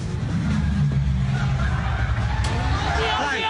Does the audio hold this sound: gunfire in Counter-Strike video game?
no